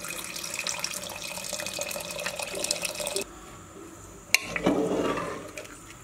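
Water is poured into a pot of spicy mutton curry, a steady close splashing stream that stops abruptly partway through, followed by a sharp clink and a softer gurgling pour, with no talking.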